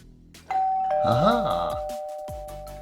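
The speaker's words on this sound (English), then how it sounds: "That's the doorbell." A two-tone doorbell chimes once, ringing clearly with a lingering sustained tone as a voice groans over it and footsteps sound afterward in a quiet home.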